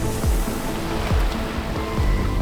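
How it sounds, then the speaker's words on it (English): Heavy surf pounds a Southern Ocean beach along Australia's southern coast, a continuous loud roar of breaking waves with recurring low thuds, heard from offshore amid wind. "this whole beach is getting pummeled by these waves"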